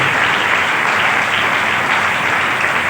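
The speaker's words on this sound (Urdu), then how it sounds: "زوردار تالیاں یسوع کے ساتھ دی جائیں" A church congregation gives loud, sustained applause, a dense and even wash of clapping from many hands with no break.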